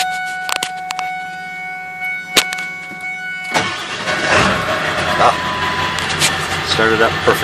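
Old Ford F-250 truck engine cranking and starting up after a battery change, heard close from inside the cab; a sharp start at about three and a half seconds settles into a steady, broad idle rumble.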